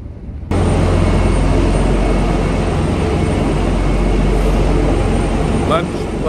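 A loud, steady roar of a helicopter engine flying overhead at a military forward operating base in Afghanistan starts abruptly and fills the whole stretch, droning on without a break.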